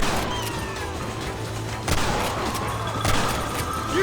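Gunfire in the Western video game Red Dead Redemption crackles as a dense, steady barrage, with a few louder shots standing out above the constant noise.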